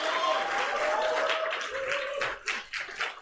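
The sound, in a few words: applause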